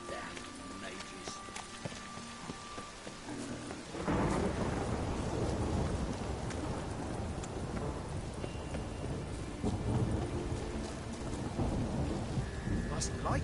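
Rain pours and thunder rumbles in The Witcher 3, a fantasy video game, with horse hooves clip-clopping; a heavy downpour surges in partway through, steady and close, while voices speak intermittently.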